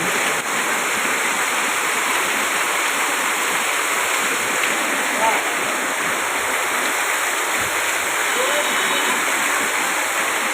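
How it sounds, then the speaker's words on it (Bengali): Torrential rain pouring down on a street in Dakshineswar, Kolkata, a dense, continuous roaring hiss that stays loud and unbroken from start to finish. "দেখুন আবার বিদ্যুৎ চমকাচ্ছে কীভাবে বৃষ্টি নেমেছে"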